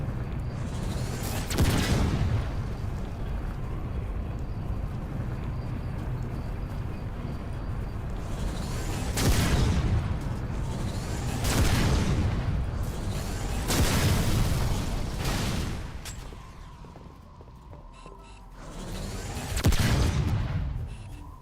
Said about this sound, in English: This is actually just a Gauss cannon.